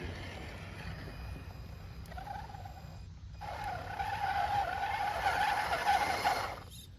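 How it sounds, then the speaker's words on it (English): A cheap, ugly Amazon RC car skids across rocks, its tires giving a sustained squeal with a gritty scrabbling underneath, swelling louder through the middle before cutting off, with no voices. "I do like the tire squeal on the rocks"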